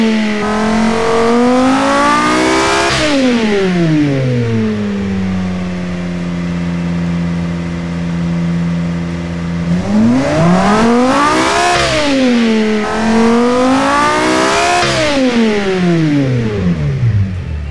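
A 2.5-litre V10 sports car engine runs close and loud, idling smoothly at low RPM before two sharp revs that climb and fall back, with no talking.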